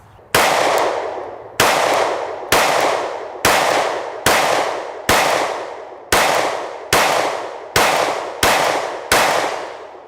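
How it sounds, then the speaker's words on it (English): Gunshots ring out at a small rubber target at an outdoor range, with ten loud, sharp reports at an even pace of about one per second, each followed by a ringing decay. "We are going to shoot the smaller target this time, the Lil Boy rubber infinity target"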